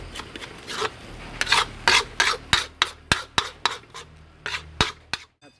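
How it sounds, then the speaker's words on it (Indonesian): Nasi goreng Magelangan fried rice with noodles being stirred in a pan: a steady series of scraping, rasping strokes of a spatula against metal, about a dozen rhythmic scrapes close up, with no talking. "Kita aduk lagi."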